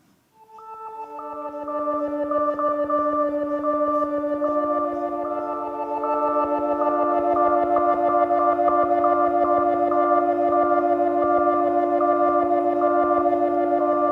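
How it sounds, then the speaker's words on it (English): A sustained synthesizer tone with layered harmonics swells in after a brief silence, gradually taking on a steady pulsing texture, controlled by the mod wheel, that grows denser and louder. "I'm riding on the mod wheel, which controls this pulsing sound, increasing it"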